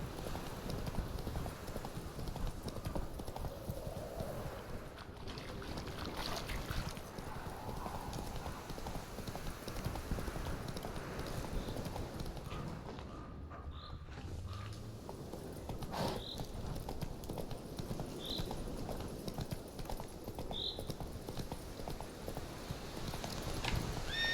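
Steady clip-clop of horse hooves on hard ground in the video game The Witcher 3, continuous and fairly close, with an occasional whinny and faint ambient sounds in the background.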